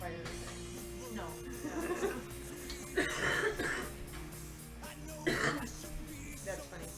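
Indoors, several people cough and clear their throats in rough bursts roughly every second or two, near and fairly loud, over steady background hum and music.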